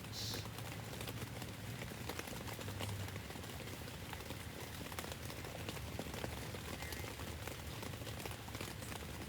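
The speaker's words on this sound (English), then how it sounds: "It's raining like a bitch." Rain falls steadily as a faint, even hiss with scattered light patter, continuous throughout and unbroken by any clear talk.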